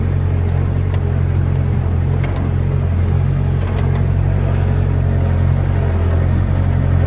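A cold Bobcat skid steer engine idles at low speed, a loud, steady, close diesel rumble that holds constant without revving.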